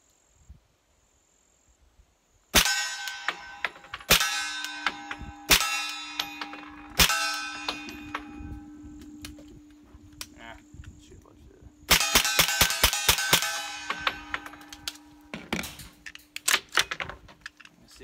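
Suppressed firearm shots ring out one at a time in a slow, irregular series, each sharp crack followed by a metallic clang of impact on a target, then a quicker burst of shots and clangs later on, with a faint voice nearby.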